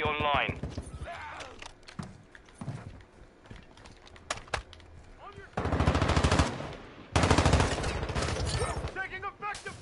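Rapid bursts of video game gunfire, machine-gun rattles and scattered shots, with two loud sustained volleys late on and quieter firing and game sounds between them.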